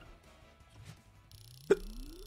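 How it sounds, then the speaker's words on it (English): One abrupt, short hiccup sounds close by during a gaming livestream, standing out against a quiet background with faint low hum. "these hiccups are real, man"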